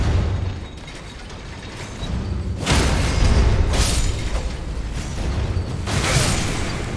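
A blast from an exploding enemy in Elden Ring, with a broad rumbling burst and a second swell of booming noise about a second later over steady game ambience.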